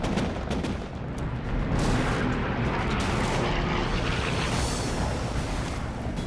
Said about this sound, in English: Laffey unleashes an anti-aircraft barrage. First, the main battery, 5-inch radar-directed guns.